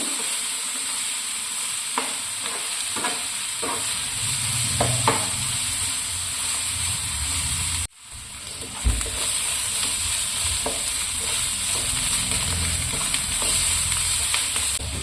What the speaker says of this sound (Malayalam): അങ്ങനെ ഇഞ്ചിയും വെളുത്തുള്ളിയും നല്ലതുപോലെ ഫ്രൈ ആയി വന്നിട്ടുണ്ട്.